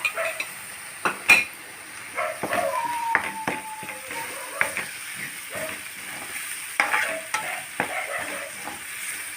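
A paste of ground poppy seeds, coriander, cinnamon, cloves and cardamom fries in a pan for mutton curry, with a quiet sizzle under repeated scraping and clinking stirs at irregular intervals.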